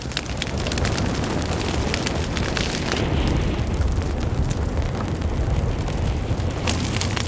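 A forest fire consuming a tree, with a steady loud roar of flames full of dense crackling and popping that continues without pause.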